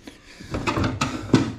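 A door creaks and thuds open on a farm in the Philippines, close and fairly loud, with a couple of knocks and a sharper bump near the end.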